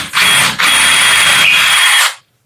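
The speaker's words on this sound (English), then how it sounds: "drill the last bit out from this side" A power drill whines steadily through a wooden door for about two seconds, briefly dipping once near the start before cutting off abruptly.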